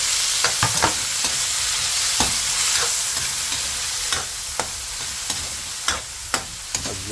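Tomato and onion sautéing with fish sauce in a pan crackle in a steady close sizzle, broken by sharp utensil taps and stirring clicks spread through the clip.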